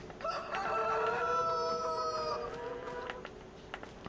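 A rooster in Farm Sim 25 crows one long cock-a-doodle-doo, with chickens clucking around it in a quiet farmyard.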